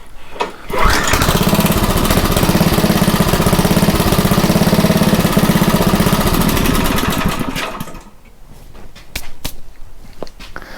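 Craftsman rototiller engine with a rusty tank and dirty carburetor running loudly on choke at about three-quarter throttle, a steady close chugging roar for about seven seconds before it cuts out, followed by quieter clanks.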